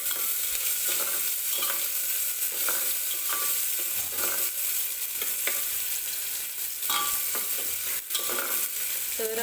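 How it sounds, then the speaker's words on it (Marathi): Chopped onion frying in hot oil while being stirred in a pan, a loud steady sizzle heard up close, broken by the scrape of a spoon, with no talking. "कांदा व्यवस्थित आपल्याला तेलामध्ये भाजून घ्यायचा आहे."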